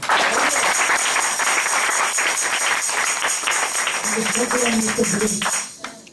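A church congregation claps hands together in a steady, dense wash of applause, loud and continuous, with voices and singing mixed in before it tapers off at the end.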